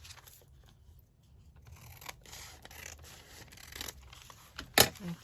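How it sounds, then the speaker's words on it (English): Scissors cutting across paper for a paper-bundle journal, a quiet close series of snips and rustles ending in one sharp crisp cut, with no talk. "Just going to cut across here."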